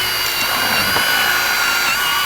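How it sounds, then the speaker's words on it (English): A power drill powered from a Rivian R1T drives a lag bolt through two pieces, whirring steadily and loudly for a couple of seconds, a continuous high motor whine close by with no talking. "We'll drill these two pieces together"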